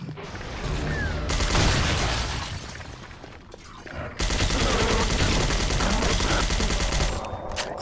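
Rapid nail gun fire in the Half-Life mod Poke646 comes as dense, loud bursts, one long volley and then another after a brief lull, with crashing and breaking sounds mixed in.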